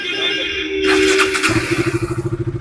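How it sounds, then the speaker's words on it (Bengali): A 2019 BS4 KTM Duke 200 motorcycle at a used bike showroom starts up close by and settles into a loud, rapid, pulsing idle with an even rhythmic thump. "ডিউক টু হান্ড্রেড দাদা আওয়াজটা শোনাবে"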